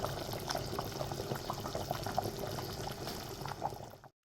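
Fresh cream poured into hot butter chicken in a pan, a steady bubbling, liquid wash up close for about four seconds before cutting to silence.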